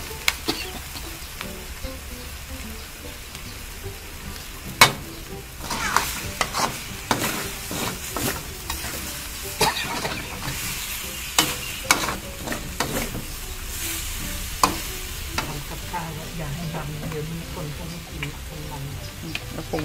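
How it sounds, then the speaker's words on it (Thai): Shark being stir-fried in a wok, with a metal spatula stirring and scraping the pan bottom in irregular bursts over a constant sizzle, close and loud, while a person talks now and then. "มันขูดก้นกระทะด้วยเดี๋ยวมันจะไหม้ใช่ไหมครับ"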